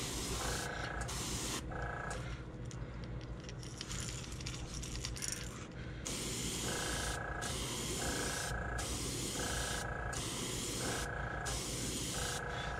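An airbrush sprays brown paint onto a squarebill crankbait in short hissing bursts, with several evenly spaced on-off pulses and steady close spray noise between them.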